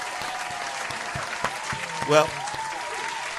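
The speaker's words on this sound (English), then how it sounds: "Let's clap that up." Applause from a live show audience runs as a faint, steady wash beneath someone talking close up, with a few sharper knocks standing out.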